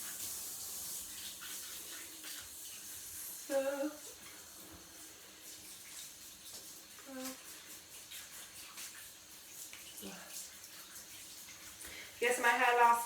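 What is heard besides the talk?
shower running while wetting hair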